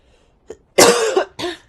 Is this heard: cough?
yes